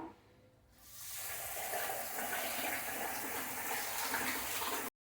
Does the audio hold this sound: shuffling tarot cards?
no